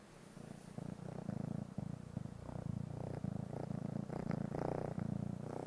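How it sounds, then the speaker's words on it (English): A kitten purrs steadily and close by, a soft rhythmic rumble pulsing with each breath, continuous throughout with no talking. "That's the sound of a kitten purring."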